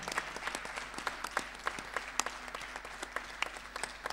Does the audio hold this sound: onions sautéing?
no